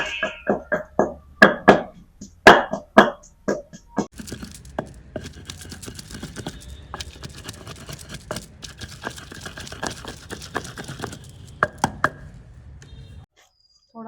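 Peeled garlic pounded for a mustard greens tadka, sharp separate thuds at first, then a rapid run of quicker knocks that stops abruptly near the end.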